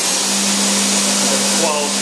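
Spindle of a 2015 Hurco VMX 42SWi CNC mill running at 6,000 RPM, a loud steady whirring drone with a constant tonal hum underneath, unbroken throughout.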